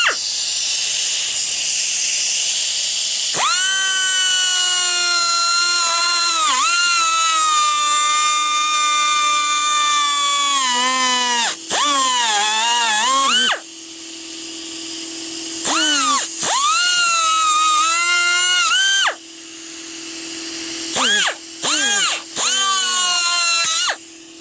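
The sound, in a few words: die grinder trimming parts for Nissan 370Z Nismo intake install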